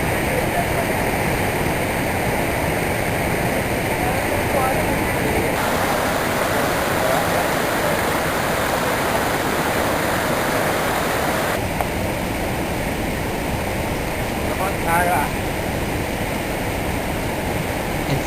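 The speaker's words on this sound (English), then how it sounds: "fresh water gushing from a crystal clear river" Fresh water gushing loudly and continuously down a crystal clear mountain river, a dense unbroken roar of rushing current with no pauses.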